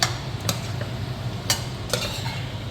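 Garam masala stirred into a chicken perattu in a pan, giving a low simmering sizzle with a few distinct scraping clinks of the spoon, quiet and close.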